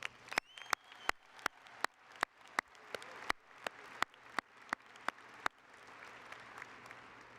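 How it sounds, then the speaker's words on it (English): Business school graduates applauding themselves at a spring undergraduate commencement, heard as a regular series of loud, distinct clap-like hits with a faint crowd wash underneath, ending in softer diffuse noise. "Give yourselves a round of applause"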